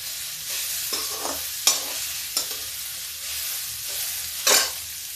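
Ridge gourd peels roast in a pan as they are stirred, soft frying hiss broken by several sharp scraping strokes of the spoon, close and without talk.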